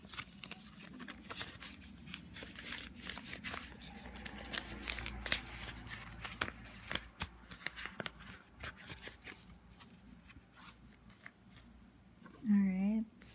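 Paper banknotes rustling and riffling as cash is counted and slid into a budget envelope, soft close shuffles and flicks over a quiet room, ending with a brief tonal beep.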